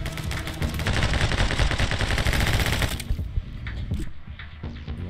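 Rapid Uzi bursts in the video game My Friend Pedro, a dense, loud stream of automatic shots for about three seconds that breaks off, leaving a quieter rumble of game sound.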